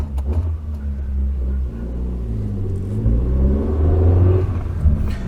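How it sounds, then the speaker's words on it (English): A 1992 Nissan Micra 1.2 GSX with its K10 engine still cold, running steadily on the road, a loud continuous low rumble that rises and swells as it accelerates, with no talking over it. "it's quite a rorty little engine"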